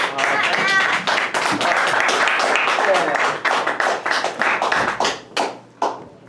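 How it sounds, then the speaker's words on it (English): Applause and clapping from a nightclub collab-night audience fill the room, dense and continuous before thinning into scattered claps near the end. "Let's hear it for BBoy and Princess"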